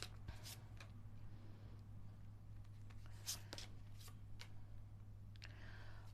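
A Cigano (Gypsy) tarot deck shuffled by hand, soft quick riffling and card-slapping flicks in scattered bursts over a low steady hum, faint and close.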